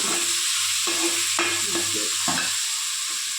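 Onions sautéing in a pan, a steady broadband sizzle with repeated scraping stir strokes coming in short bursts, close and fairly loud, with no talking.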